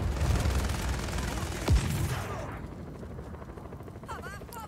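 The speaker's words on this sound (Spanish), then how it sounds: "¿Dónde está el helicóptero?" A helicopter from the video game Just Cause 4 churns as a steady broadband whir amid game noise, with a brief whooshing swoop partway through and faint talk.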